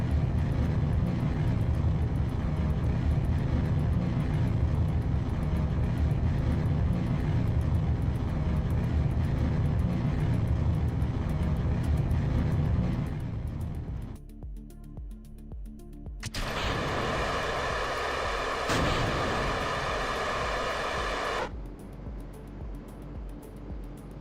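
A rocket engine roars during ascent in Kerbal Space Program, a loud steady broadband rumble that drops away abruptly partway through, then returns as a brighter, thinner hiss before fading to a quieter drone.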